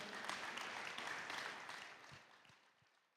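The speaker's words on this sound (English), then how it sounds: "give a big round of applause to your coaches" An audience claps for the coaches at a VEX V5 robotics schoolboard invitational in Ontario, a dense burst of applause in a large hall that holds steady and then fades out.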